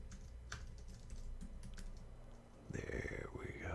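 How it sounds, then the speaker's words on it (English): Keys clatter on a computer keyboard as a web link is entered, a quiet run of irregular taps, followed by a brief shift in background noise with a faint tonal sweep near the end. "And I'm going to type in the link."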